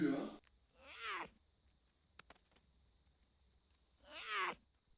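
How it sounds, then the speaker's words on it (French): Two short kitten meows from The Conjuring video game come out clearly, separated by a quiet pause with a couple of soft ticks. "Tu crois que tu me fais peur avec ton petit miaulement de chaton?"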